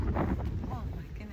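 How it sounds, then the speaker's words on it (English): Wind gusts roar across the microphone outdoors on a rainy day near mountains, a steady low rumble that runs loud throughout, with a voice speaking faintly beneath it. "Oh my goodness, the wind."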